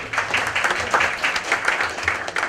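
Audience applause at a diamond jewellery collection launch with Aditi Rao Hydari, a continuous, moderately loud wash of many people clapping close by throughout.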